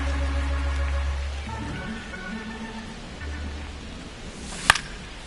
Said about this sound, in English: It really feels like we might be running out of time before a rain delay is called. This rain is not letting up.